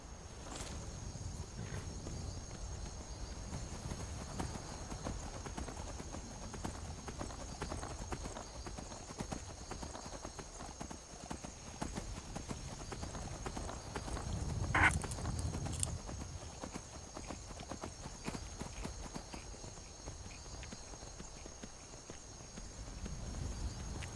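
Horse hooves clip-clop steadily at a moderate pace in the video game Skyrim, with a faint insect-like chirping in the background and a brief louder thump midway.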